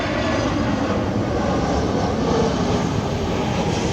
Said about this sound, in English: there's an EasyJet aircraft just on the top there